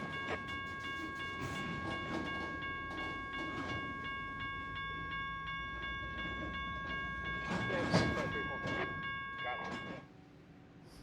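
A CSX freight train rumbles steadily along a branch line with a persistent high whistle-like whine, a louder surge of clattering near the end before the noise drops away.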